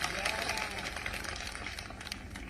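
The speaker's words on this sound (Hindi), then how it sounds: "जोरदार तालियां आशीष दुबे जी के लिए" Crowd applause at a Lodhi community event with Chief Minister Mohan Yadav in Jabalpur, Madhya Pradesh: a steady, dense wash of many hands clapping at moderate loudness with no break.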